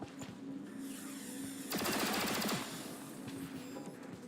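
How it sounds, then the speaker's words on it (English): Gunfire aimed at a turret in XCOM Chimera Squad, a quiet scene broken by a short rapid burst of shots in the middle, then faint clicks and impacts. "we're just gonna shoot at the turret"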